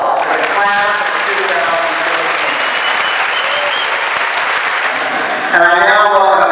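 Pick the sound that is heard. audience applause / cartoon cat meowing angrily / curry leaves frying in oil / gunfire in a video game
audience applause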